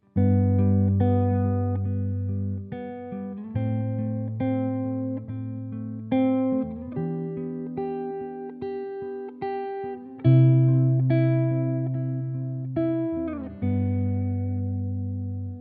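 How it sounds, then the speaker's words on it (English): A clean electric guitar plays a slow chord progression, each chord strummed and left to ring before shifting to the next, alone. "Let's say I have a chord progression that sounds like this"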